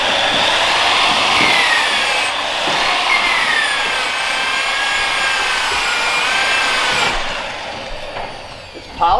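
A power tool polishes seam sealer off an ISS Enduro race car's bodywork, a loud continuous whining grind with shifting pitch that stops near the end.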